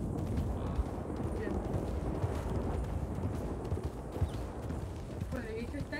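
Horse hooves clip-clop in the Western open-world game Red Dead Redemption 2, a continuous dense patter of hoofbeats under background noise, with people talking in the clip.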